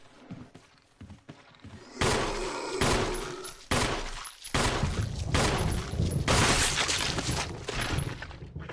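Sharp, loud gunshots from a Resident Evil game start after a few quiet taps, then continue as a rapid, dense run of shots with crashing impacts layered over them.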